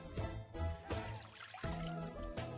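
Water poured into a small pot to be heated with sugar, a steady, close splashing pour that shifts in pitch and surges as it fills.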